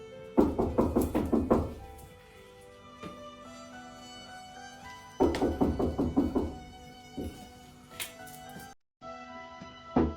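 Repeated knocking on a door in bursts of several firm raps, loud and close, with pauses between the rounds.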